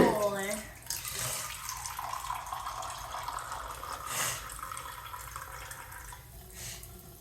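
Water from a tap runs steadily into a sink as someone washes after brushing teeth. The flow is close by and continuous, with a few splashy bursts, and there is no clear talk over it.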